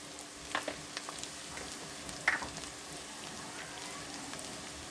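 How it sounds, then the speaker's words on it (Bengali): Onion sizzles steadily in hot oil for a tilapia dish, a continuous close hiss with a few faint pops and light utensil touches, and no talking. "আগে পেঁয়াজ দিলাম, আপনার তেল ছিল গরম"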